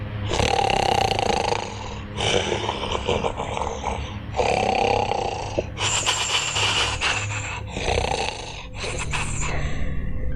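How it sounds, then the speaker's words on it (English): Loud, rhythmic snoring close up, six long rasping breaths in a row with short pauses between them; no talking; a narrated fairy-tale witch snoring. "closed her eyes and began to snore"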